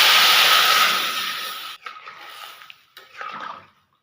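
Water is poured into a pan of cooking fish curry, a loud close rushing hiss that fades after a couple of seconds, then softer bubbling and clattering bursts before it stops.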